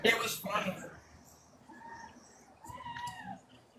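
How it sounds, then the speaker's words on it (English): A cat gives a couple of short, faint meows in a quiet room, coming after a burst of a person talking. "I hear your cat"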